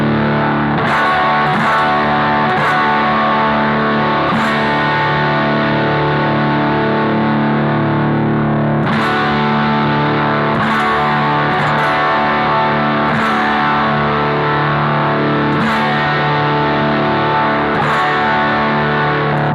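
Thick, saturated electric guitar through a high-gain Matchless DC30 amp model on a BOSS GT, sustained distorted chords ringing loudly and continuously with a few sharper attacks.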